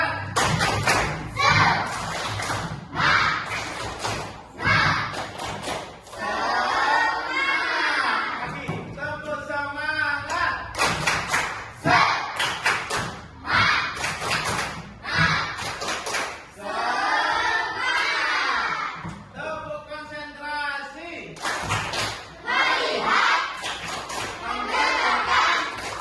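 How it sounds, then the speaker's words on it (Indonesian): Fifth-grade pupils in a classroom perform a rhythmic spirit clap, with patterned bursts of claps and taps alternating with children chanting together, repeated several times. "Tepuk semangat"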